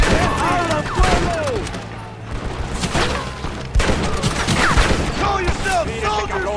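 Gunfire in Red Dead Redemption as barrels are shot, a loud fusillade of repeated shots and thumps over a busy battle mix, with shouted voices and music layered underneath.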